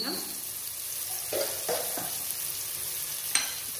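Ghee sizzling and being stirred in a pan while pulao is cooked, a faint steady fry with a few soft scrapes and clinks of the spoon against the pan.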